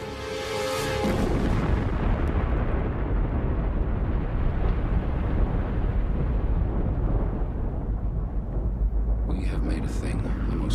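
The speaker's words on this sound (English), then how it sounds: "it would create the biggest explosion ever seen" Hydrogen bomb test blast of the Shrimp device, a single sustained, loud, low rumbling roar that swells in and holds steady for several seconds, continuous and overwhelming, with brief faint higher crackle near the end.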